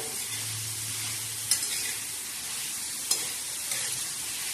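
Onion fries in a pan with a steady, hissing sizzle, broken by two short clicks of a utensil as it is stirred, close and unaccompanied by speech.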